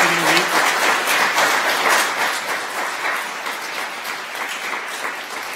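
An evening audience applauds a panel with sustained, loud clapping from many hands, a steady roar that fades slightly toward the end, with a brief voice at the very start.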